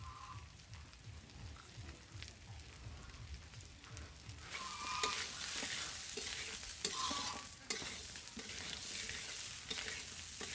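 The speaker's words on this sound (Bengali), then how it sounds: "সবজি আর ডাল ভাজা হয়ে গেছে" Vegetables and lentils fry in a pan for khichuri, with a soft, steady sizzle under scraping stirs that grow busier and louder halfway through.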